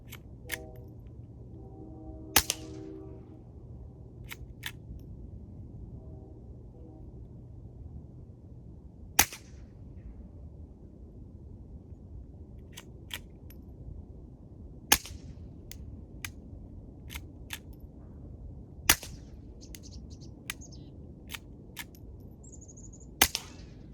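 Suppressed gunshots fired outdoors toward rocky ground, each a sharp isolated crack with a thin ricochet whine after some, spaced several seconds apart over a low steady background hum.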